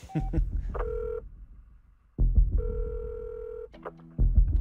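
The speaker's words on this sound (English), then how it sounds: "The keys on the phone felt pretty heavy as I was pushing them" A telephone keypad sounds a short series of dialing tones, with a few separate beeps spaced apart and the clunks of heavy keys being pressed in between.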